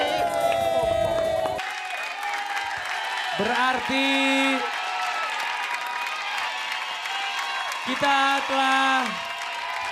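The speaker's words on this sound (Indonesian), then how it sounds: "Tepuk tangannya sekali lagi kepada Dahsyat." Studio audience on an Indonesian TV variety show claps and cheers loudly, then the crowd noise drops under a host's talk and music, with brief bursts of cheering returning.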